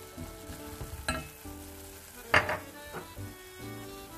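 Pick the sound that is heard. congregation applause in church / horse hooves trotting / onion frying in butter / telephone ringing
onion frying in butter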